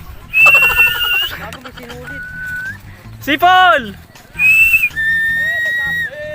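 A person whistles in several bursts of shrill, sliding and warbling tones, with short pauses between them and voices in the background.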